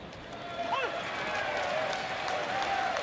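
Baseball crowd in a Philadelphia ballpark, Braves at Phillies, giving a mocking Bronx cheer after a strike: a steady, loud wash of mixed yelling and scattered clapping from a large crowd, sustained throughout with a brief whistle-like rise early on.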